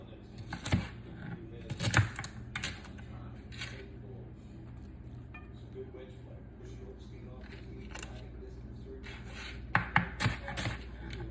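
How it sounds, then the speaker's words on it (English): A knife roughly chops summer salad vegetables, including fennel, on a board in a few short bursts of quick taps near the start and end, with quieter room sound in between. "this whole salad is basically roughly chopped"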